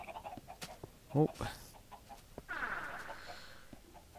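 Minecraft chickens clucking in short, faint bursts scattered through the clip, with a few other game sounds mixed in and a brief spoken exclamation.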